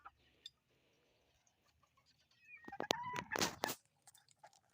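A bantam labuyo jungle fowl kept in a pen gives a brief cluster of close clucks and chirps, surrounded by soft scratching and pecking noises in an otherwise quiet yard.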